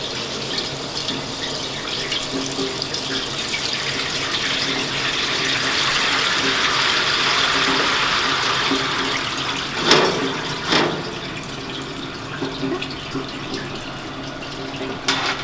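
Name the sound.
pouring hot water from a pot into a colander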